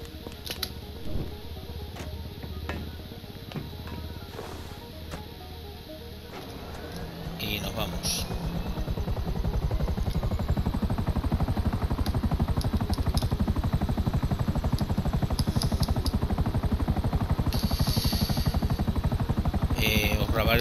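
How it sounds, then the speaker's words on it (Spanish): Helicopter in the video game Grand Theft Auto V, a rotor and engine that spools up partway through and then holds a loud steady rhythmic thrum, with someone talking over it. "Cogemos el helicóptero."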